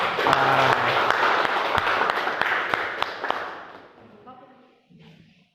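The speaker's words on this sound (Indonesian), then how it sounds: "Tepuk tangan ya buat Putri ya." Classroom applause greets a student presenter named Putri in a university teaching-practice session, crisp claps that thin out and fade after about four seconds before a voice begins speaking.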